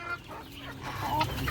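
Chickens clucking softly and steadily at close range while eating watermelon, with low murmuring calls and no voices.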